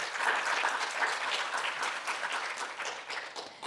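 Audience applause at a community sculpture showcase for an older-adult creative aging program, a dense, steady clapping that runs through the whole clip and eases slightly at the end.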